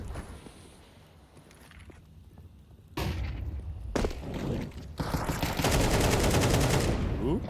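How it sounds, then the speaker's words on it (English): Desert Eagle pistol fire in a Counter-Strike match at the PGL Cluj-Napoca 2025 esports event, sharp loud shots among several bursts of gunfire over game ambience and a caster's commentary. "As Story's deagle blasts through the head of Cadian."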